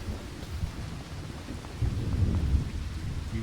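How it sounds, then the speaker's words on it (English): Steady rain with low rumbling thunder in the farming video game The Countryside Lands, a continuous wash that swells louder partway through as the thunder rolls in, with no voices. "even though it's still raining"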